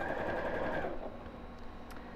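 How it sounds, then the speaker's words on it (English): A sewing machine stitches straight down a seam line on a box bag, running at a steady whirring pace for about a second before dropping to a quieter background hum. "So again, just sewing straight down over the same line."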